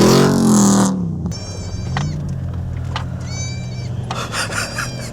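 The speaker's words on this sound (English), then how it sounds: "I think the goat's crying because of the car." A goat bleats loudly up close at the start, then a car engine hums steadily underneath, with whining tones and scraping rasps coming and going, on Dirk Hartog Island, Western Australia.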